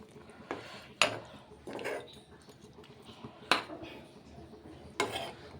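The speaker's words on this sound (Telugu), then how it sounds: "కల్లుప్పు వేసి ఒకసారి గరిటెతో ఇట్లా కలుపుదాం" A ladle stirs chicken masala curry in a pot after rock salt goes in: sharp metallic clanks land every second or two, with soft scraping and sloshing between them, all close and fairly quiet.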